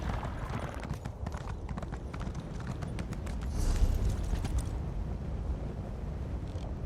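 Horse hooves clip-clopping steadily in the Elder Scrolls Online Morrowind video game as the rider heads north, a brisk even rhythm of close, moderately loud footfalls with soft ambient noise and no talk.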